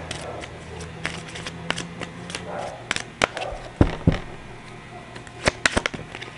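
Tarot cards riffled and shuffled by hand, with several sharp snapping flicks as cards fly out of the deck, close and fairly quiet over a faint low hum and brief murmur.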